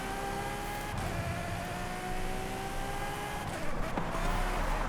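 A race car in a long Forza Horizon seasonal championship race, its engine holding a loud, steady drone with gliding pitch as it shifts and accelerates, close and continuous throughout.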